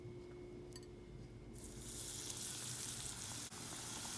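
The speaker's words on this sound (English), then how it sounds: "I'm going to go put it in the oil now." Food dropped into hot oil on a stovetop, with a brief soft clatter and then a loud, steady broadband sizzle of frying that swells and holds, close and with no voices.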